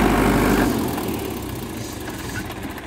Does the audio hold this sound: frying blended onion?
no